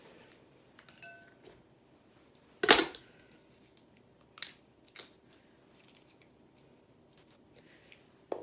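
Garlic is chopped with a knife on a cutting board, giving a few sharp, irregular chops with quiet gaps between them, close and isolated.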